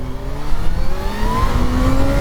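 A Kawasaki Z H2 motorcycle engine revs loud and close during wheelie practice, its pitch climbing steadily as the throttle opens.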